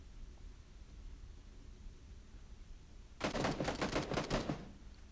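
A quick burst of rapid gunfire in PUBG erupts after several seconds of quiet hiss, sharp cracks tumbling over each other for about a second and a half.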